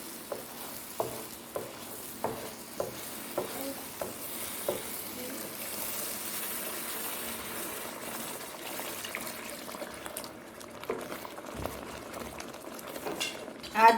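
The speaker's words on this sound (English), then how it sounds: "Saute the gravy well." Paneer biryani gravy sizzles and bubbles in a pan while being stirred, with faint rhythmic scraping taps in the first few seconds and a quiet continuous fry throughout.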